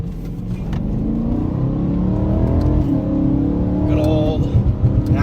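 Naturally aspirated BMW M3 E90 engine accelerating on a road in traffic, a loud rising mid-pitched rev with climbing engine tones that build and then shift near the end, heard from inside the car while someone talks over it.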